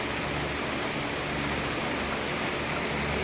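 Heavy rain during rainy season, a dense, loud, steady downpour pattering on surfaces without pause and with no voices.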